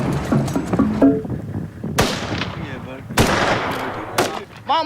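Gunshots ring out during a hunt for food in South Sudan, with several sharp, loud cracks at irregular intervals and echoing tails between them, mixed with background voices.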